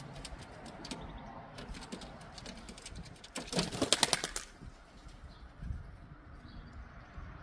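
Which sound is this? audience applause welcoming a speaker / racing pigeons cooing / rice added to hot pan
racing pigeons cooing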